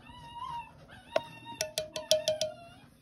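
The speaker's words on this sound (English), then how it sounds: "Hear the puppy?" A puppy whimpers and yips in a series of short, rising cries, fairly close, with quiet background between them.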